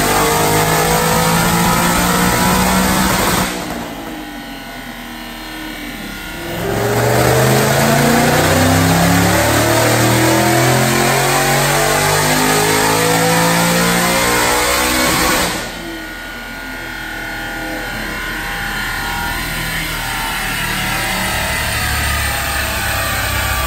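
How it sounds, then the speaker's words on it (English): A 2017 Ford Mustang GT with a Whipple supercharger, Brenspeed Stage 3 kit, roars loudly on a dyno in a hot dyno cell, revving hard, easing briefly, then climbing again in a long sustained pull. "Watch this dyno pull."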